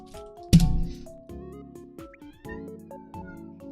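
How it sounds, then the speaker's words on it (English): A pet cat meows a few short times at a distance, faint under a music-box melody playing in the room. "My cat's meowing."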